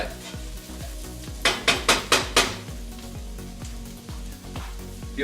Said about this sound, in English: Let's keep stirring that on that heat for a good 2 minutes.